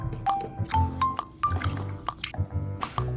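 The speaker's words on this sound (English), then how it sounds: "Rinse them in the water." Green beans are rinsed in water, giving close-up sloshing, dripping and squishing sounds in irregular splashes, with a few bright ringing tones mixed in.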